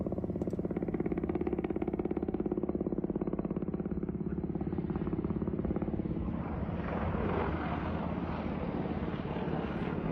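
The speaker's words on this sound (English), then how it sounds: "we can see a Russian helicopter firing at a low altitude, apparently at Ukrainian forces" Russian Mi-28 and Ka-52 attack helicopters firing at low altitude, heard as a loud, steady rotor and engine roar with a rapid pulsing beat that turns rougher and noisier partway through, with no talking.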